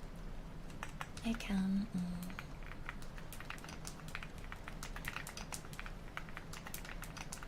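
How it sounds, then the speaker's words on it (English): Soft, steady keyboard clicking runs throughout at a quiet level, with a brief spoken phrase partway through. "You love my keyboard sounds."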